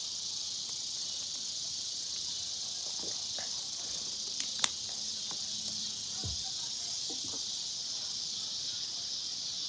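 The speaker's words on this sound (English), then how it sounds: "The crickets and the cicadas." Crickets and cicadas trill steadily outdoors on an evening, a dense continuous high-pitched buzz holding at an even level throughout, with a couple of brief faint ticks and a soft low rumble passing midway.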